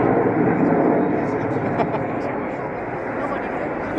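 Red Arrows jets fly a vertical break at the 2009 Roskilde Airshow, a broad, rushing roar that swells and fades slightly beneath a commentator talking over a loudspeaker.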